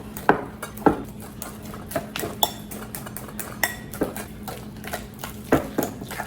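Ripe bananas being mashed for banana almond muffins, heard as a quiet series of irregular utensil clinks and taps against a bowl, with soft squishing between the knocks.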